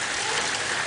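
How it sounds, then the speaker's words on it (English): Rain falls under a patch of blue sky, a dense, even hiss of drops that stays steady and fairly loud throughout, with no talk over it. "It's raining."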